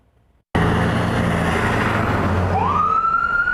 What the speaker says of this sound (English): The wailing of an ambulance siren came moments after people in this Northside neighborhood say they heard gunshots